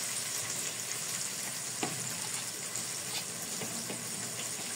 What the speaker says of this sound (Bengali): সবগুলা মশলা এখন একটু আমি খুব ভালো করে তেলে কষাইয়ে নিব